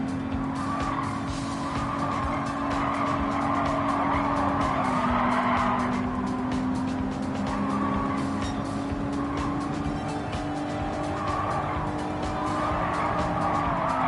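An Audi race car in Gran Turismo 7 holds a steady, loud engine drone throughout, with skidding tire squeal rising and fading over it, and no talk.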